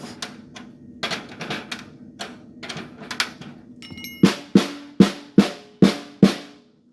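A series of taps on a Ludwig Auditorium snare drum head while its tension lugs are tightened, first light and scattered, then louder evenly spaced hits with a ringing snare rattle.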